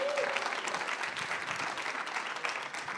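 Applause from an audience at a parents' advocacy event, a moderate wash of many hands clapping that continues steadily, heard at some distance and fairly quiet.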